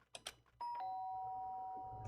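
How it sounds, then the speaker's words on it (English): A doorbell in the DanganRonpa video game gives a clear two-tone ding-dong that rings out and sustains, faint and alone after a couple of soft taps. "The sharp sound of the doorbell piercing my sleeping haze and pulled me back to the real world."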